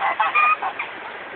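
Geese give a few loud, nasal honks close by in a short run, the calls fading toward the end.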